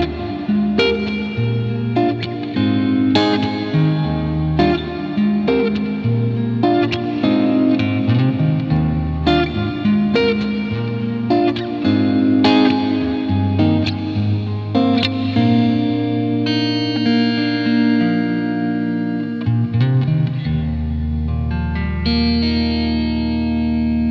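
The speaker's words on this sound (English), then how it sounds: "I've added a beautiful Coliseum reverb on ultra high quality, and it sounds absolutely lush." Electric guitar through a Fractal FM3 processor with a compressor and a lush Coliseum-style reverb, sustained chords and ringing notes washing into long, spacious tails, loud and alone.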